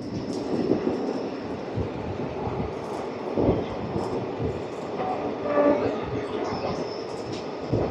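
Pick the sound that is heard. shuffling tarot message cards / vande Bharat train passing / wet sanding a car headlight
vande Bharat train passing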